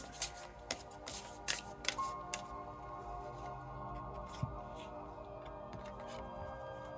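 Deck of cards being shuffled, with a burst of quick riffling snaps in the first two seconds followed by quieter handling in a soft room.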